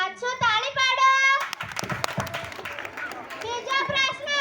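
Scattered hand claps from a group of children at a primary school Republic Day play, a burst of clapping lasting about two seconds between children's spoken lines.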